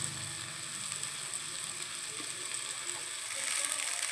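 Pasta dropped into a hot pan for a home-cooked dish, giving a steady, bright sizzle and frying hiss that stays even throughout, fairly quiet and with no talking.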